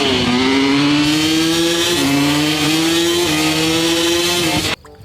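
A pink toy racing motorcycle's engine drone revs loud and steady, its pitch dipping and climbing in short steps before cutting off abruptly near the end.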